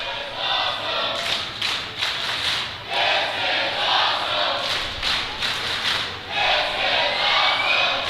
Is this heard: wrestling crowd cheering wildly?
yes